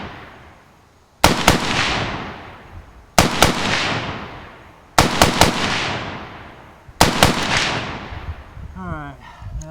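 An Ohio Ordnance 1918A3 BAR rifle fires four loud, close bursts of two or three quick shots each, every burst followed by a long echoing decay.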